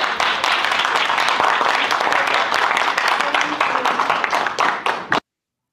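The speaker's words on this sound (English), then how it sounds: "No, these idiots clapping." A crowd at an AEW wrestling scrum claps steadily, dense overlapping handclaps filling the room at close range and fairly loud, with faint voices underneath, then cutting off abruptly.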